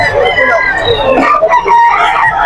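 Roosters crow loudly and repeatedly over clucking chickens at the crowded Bocaue pet market in the Philippines, with a faint murmur of people nearby.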